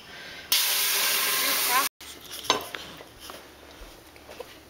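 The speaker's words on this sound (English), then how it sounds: "I've got these pans heating up." Pans heat on a stove while marinara sauce is made: a loud, steady sizzle or steam hiss lasts over a second, then cuts out, leaving quieter clinks, scrapes and kitchen clatter close by.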